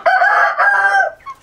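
A Silkie chicken gives a single drawn-out vocal call, loud and close, a wavering crow-like cry lasting about a second followed by a short softer cluck.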